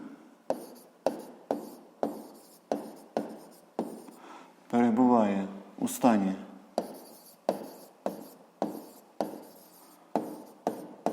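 Chalk or a marker writing on a board in a physics classroom gives a run of short, evenly spaced scratchy strokes, close and clear, broken midway by a brief squeaky scrape.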